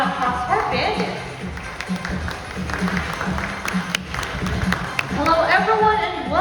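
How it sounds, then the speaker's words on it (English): Audience applause at a bird show in the Cebu Ocean Park amphitheater, greeting a bird named Bandit: a broad wash of clapping with some crowd noise, steady and moderately loud, while a host's voice speaks over it. "A round of applause for Bandit."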